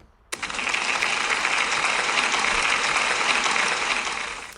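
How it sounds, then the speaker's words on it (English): A school audience gives a round of applause for a pupil at an end-of-year celebration assembly; clapping starts abruptly after a brief silence, holds steady and dense, then tapers slightly at the end. "So can we give Alex a big round of applause, please?"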